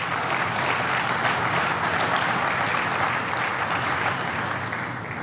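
An audience at a cement plant event in Port-Daniel, Gaspésie, applauds in a dense, even wash of clapping that continues throughout and tapers slightly at the end.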